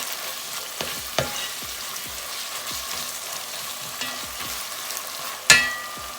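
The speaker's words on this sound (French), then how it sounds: "Tourner pour faire cuire" Duck leg with condiments sizzles steadily in a frying pan while being stirred, a constant crackling hiss broken by several sharp utensil taps against the pan and one louder scrape near the end.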